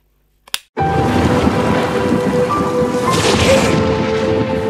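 A sharp, sudden crack of thunder is followed at once by a heavy downpour. The rain keeps up a loud, dense, steady hiss and patter, and a brief surge swells partway through.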